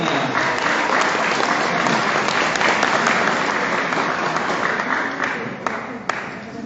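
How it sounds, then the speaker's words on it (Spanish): A large audience at a public forum on citizen security gives loud, sustained applause, dense and even for the whole stretch with a few sharper claps near the end. "recibimos con fuertes palmas, por favor"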